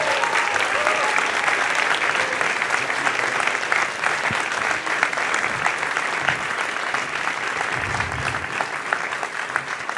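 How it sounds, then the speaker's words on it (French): An audience applauds a speaker, François Ruffin, at a political launch event in Paris. Dense, steady clapping from a large crowd runs loud and unbroken for the whole stretch. "Un tonnerre d'applaudissements pour François Ruffin."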